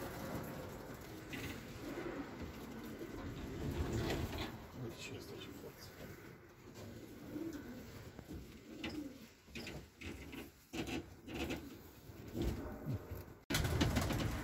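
Pigeons at a large pigeon breeding loft coo and stir amid a noisy background, with flutters and clatters of the loft throughout and a voice talking over parts of it.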